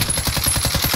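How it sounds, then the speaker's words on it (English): Rapid gunfire from a video game shooter, a dense string of sharp evenly spaced shots over about a second, loud and continuous with no talk. "One shot on the roof."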